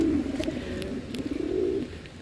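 Racing pigeons coo softly and repeatedly inside a crate, low throaty murmurs overlapping close by, with a few faint high chirps in the background.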